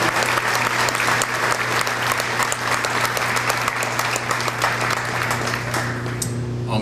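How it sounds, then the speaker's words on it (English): Warm round of applause from an audience at a Lehigh County bicentennial event for a Coca-Cola Bottling Company representative, steady and full crowd clapping for several seconds with a low hum underneath. "Let's give him a great round of applause."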